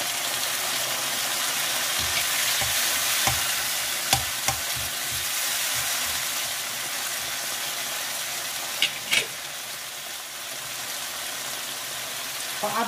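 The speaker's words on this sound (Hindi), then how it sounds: "और अब इसमें टमाटर डाल देंगे" Tomatoes go into a hot frying pan for a garlicky Sindhi spinach dish, bringing a steady close sizzle with a few scattered clinks of stirring.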